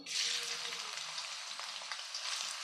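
Bay leaf and chopped onion frying in hot oil in a kadai, a continuous close sizzle with faint stirring scrapes and a soft clink at the end.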